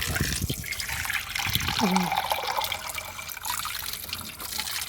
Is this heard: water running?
yes